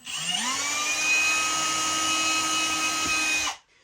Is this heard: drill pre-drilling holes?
yes